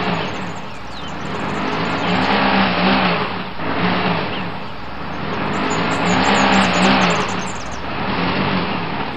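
A four-wheel drive vehicle stuck in mud revs hard and continuously, its engine surging and easing in loud close waves, with no voices.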